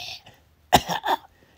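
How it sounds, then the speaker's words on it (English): A person whittling a basswood cowboy coughs twice in quick succession, close and sharp, after a brief throat sound in otherwise quiet surroundings. "Had to stop and start coughing."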